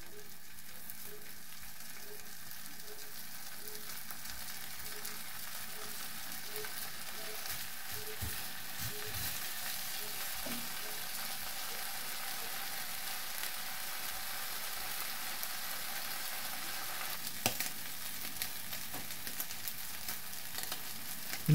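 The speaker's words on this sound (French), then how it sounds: "Ensuite, je passe à la cuisson du bacon." Bacon fries in a pan with a soft, continuous sizzle and scattered faint pops, fairly quiet and steady from start to finish.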